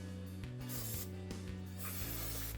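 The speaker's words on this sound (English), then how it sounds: "Let's spray down the brakes real well here with some brake clean." Brake cleaner sprayed from an aerosol can onto travel trailer brakes during a wheel bearing repack, a continuous close hiss over a steady mechanical hum, with a few short breaks in the spray.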